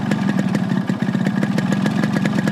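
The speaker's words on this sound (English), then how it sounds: "Foot goes on the Kickstarter, and with just a couple of pumps, you should be able to get that engine started." A small airplane engine with a kickstarter runs close and loud, firing in rapid, even pulses that make a steady chugging throb; no voices.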